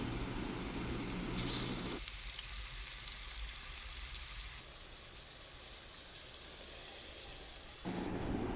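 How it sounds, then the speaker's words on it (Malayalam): Fish frying in hot oil in a pan on a stove, a steady broadband sizzle that shifts in loudness partway through, with no talk. "മീൻ വറുത്ത് കോരുക."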